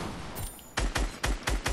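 Gunfire in a Fortnite Arena duos match: after a short lull, five loud, close shots ring out in a fairly regular rhythm, each sharp and punchy.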